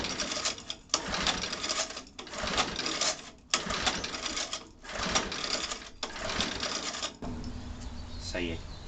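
A Morrison Olympic roller mower's petrol engine being pull-started on full choke: six rhythmic rasping pulls of the recoil cord, each about a second long, then the engine fails to catch and a voice speaks briefly.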